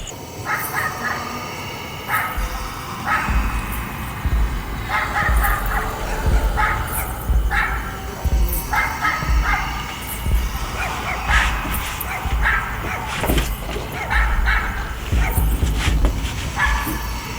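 Several dogs in a village bark, yip and whimper in repeated, irregular bursts, some sharp and close, over a constant noisy background.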